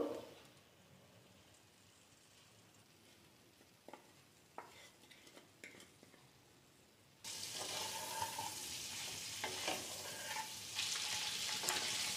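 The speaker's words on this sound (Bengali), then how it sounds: "ফ্রাই করার সময় দেব সামান্য পরিমাণে লবণ, হলুদ আর কাশ্মীরি লঙ্কার গুঁড়ো।" Eggs fry with salt, turmeric and Kashmiri chili powder in a pan: soft stirring and a few taps come first, then a loud, sustained sizzle bursts in partway through and continues close up.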